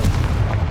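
A Confringo fire spell blasts in the Hogwarts Legacy video game as a short, loud, deep boom, heard alone.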